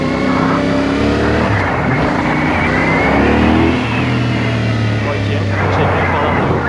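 A Honda 450SR motorcycle is ridden with its engine revving hard and droning steadily throughout, loud and near, with a rider's voice talking over the engine noise.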